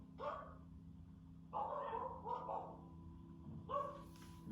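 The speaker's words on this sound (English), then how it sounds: "Really is a dog right now." A dog barks in a few separate bursts, with a steady low hum running underneath.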